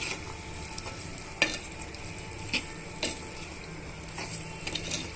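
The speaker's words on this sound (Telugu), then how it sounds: "కూర కారాన్ని యాడ్ చేసిన తర్వాత ఇవన్నీ బాగా మిక్స్ చేసుకుందామండి" Spiced ridge gourd (dosakaya) curry being stirred in a pan, with a steady sizzle of frying under irregular scraping and clinks of the spoon against the metal, close and without talk.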